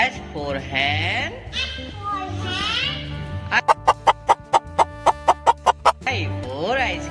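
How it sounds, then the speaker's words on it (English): A hen clucks in a fast, even run of about a dozen sharp, close clucks. High, sweeping vocal sounds come before and after the clucking. "H for hen"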